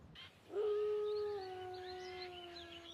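A single long wolf howl rises after a brief pause and holds a steady, slightly falling pitch for over two seconds, moderately loud against faint background noise.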